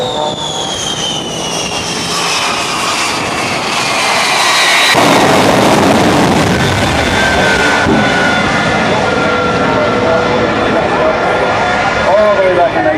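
The Shockwave jet truck, rated at 36,000 horsepower, roaring at an airshow, its jet engines building to a loud, sustained blast with whining tones sweeping in pitch, and an announcer talking over it.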